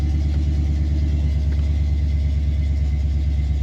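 A Camaro engine fitted with Aces EFI idles cold at just over 1,000 rpm, a steady, deep, close rumble with an even pulsing throb and no revving.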